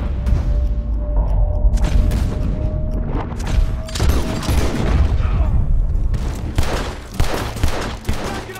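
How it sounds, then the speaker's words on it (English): Gunfire erupts from a bar in the Red Dead Redemption 2 video game, a dense fusillade of loud, rapid shots and booms that goes on almost without a break. "Gunshots are coming from that bar."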